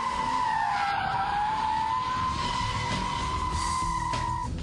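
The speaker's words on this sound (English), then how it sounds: "the ingredients for the perfect donuts every time are a standing start, full lock, loads of revs, dump the clutch, and voila" Rear-wheel-drive BMW Z3 spinning donuts on tarmac from a standing start at full lock and high revs, tires squealing in one continuous high whine over a steady engine roar.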